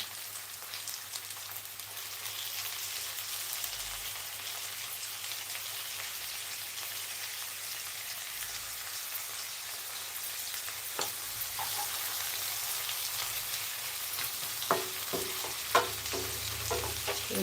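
Chopped tomatoes fry in a pan for an okra tamarind stew, giving a steady, quiet sizzle throughout, with a few soft stirring clicks toward the end.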